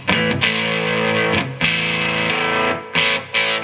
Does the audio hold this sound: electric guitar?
yes